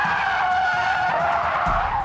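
A Rolls-Royce drifting on a circuit sends out a sustained, loud tire squeal that holds steady for about two seconds, with engine rumble underneath.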